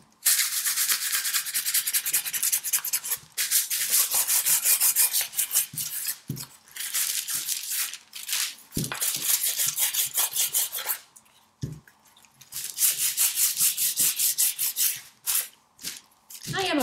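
Super fine sandpaper rubs over a chalk-painted glass liquor bottle in repeated bursts of fast scratchy back-and-forth strokes with brief pauses, close and fairly loud.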